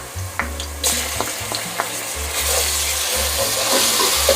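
Ginger garlic paste sizzles and fries steadily with golden-brown onions in a hot pan while a spoon scrapes and stirs, with the sizzle swelling louder toward the end.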